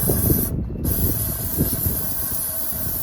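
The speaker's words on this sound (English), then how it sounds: "Spray some ether in there." A sharp hissing burst of ether sprayed into the filterless intake of a dead Craftsman rear-engine riding mower lasts about a third of a second, against a steady engine-bay rumble and background noise.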